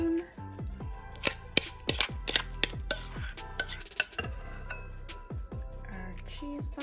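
Cheese ball mixture for holiday entertaining being spooned, with a series of sharp metallic clinks and scrapes of a spoon against a bowl, close and fairly loud, with no talking.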